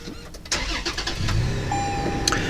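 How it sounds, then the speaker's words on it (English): A 2020 Toyota 4Runner Venture Package starts by push button in hot weather, with a short starter crank that catches into a steady idle, heard close from inside the cabin. "We're going to go ahead and start her up"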